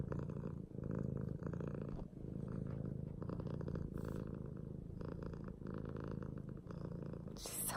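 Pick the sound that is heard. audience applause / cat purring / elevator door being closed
cat purring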